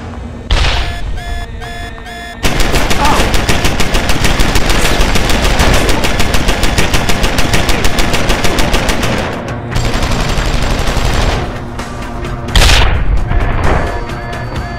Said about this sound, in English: The gun turret will track Barrett's movements, lock in, and begin to open fire.